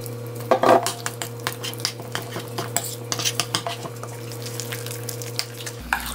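A metal utensil scrapes and clinks steadily against a bowl, stirring batter for maesaengi seaweed pancakes in a home kitchen, close and alone with a low hum underneath.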